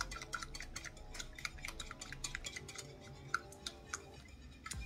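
Vanilla extract gets stirred into chocolate zucchini bread batter. A utensil makes soft, quiet, rhythmic clicks and taps against the bowl as it mixes steadily.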